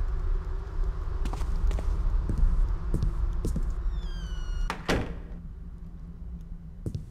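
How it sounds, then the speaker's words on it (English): Lock being picked and a door opening in the stealth video game Ghost Thief 2, heard as soft clicks and scrapes with a sharp crack near the five-second mark, over a low ambient game hum. "to get into the bar, you have to just pick the lock on the door."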